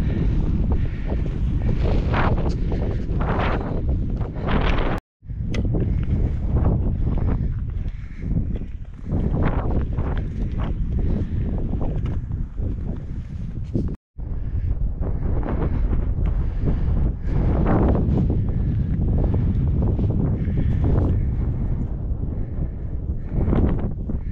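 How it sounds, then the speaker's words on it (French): Strong gusting wind buffets the microphone on an autumn Alpine hiking trail near La Rosière, a loud continuous roar with two brief dropouts and no speech. "Il fait un vent de malade."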